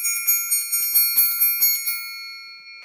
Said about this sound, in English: It sounds like the dinner bell! It's our triangle!